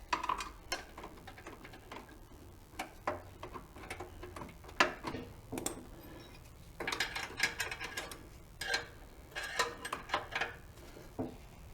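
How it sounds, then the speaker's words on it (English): Bolts being snugged down on the bottom of a Craftsman snow blower housing during a rebuild, heard as scattered close metallic ticks and clicks from a wrench or ratchet, in uneven bursts with short pauses between. "I'm going to tighten those bottom bolts on the housing"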